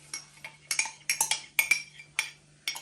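A metal utensil clinks and scrapes against a bowl while dough and flour are mixed, in a brisk irregular run of close taps and knocks, no talking.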